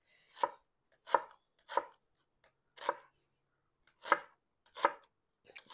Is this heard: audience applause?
no